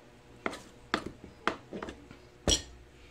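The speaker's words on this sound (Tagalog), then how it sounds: "ang gagawin natin sa ating chicken leg and thighs, i-debone natin siya para mabilis maluto" A knife works chicken legs and thighs off the bone on a board, making four or five sharp, uneven taps and knocks with small clinks that sound close and fairly quiet.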